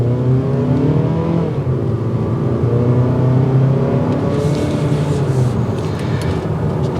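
A 2022 Mazda CX-30 with a 6-speed transmission accelerates hard in sport mode from a stop, loud close engine note climbing in pitch through gears with a brief shift dip.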